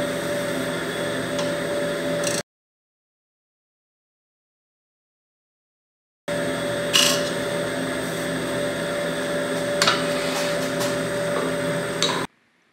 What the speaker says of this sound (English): this nice piece of redwood is very soft and was a pleasure to sand and finish